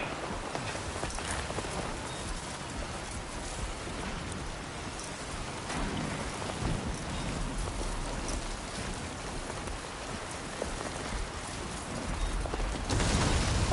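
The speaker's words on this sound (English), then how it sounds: "I was just gonna say, is that lightning?" Rain from the video game Death Stranding 2 falls as a steady, soft hiss of drops, with faint low rumbles of distant thunder underneath, no voices present.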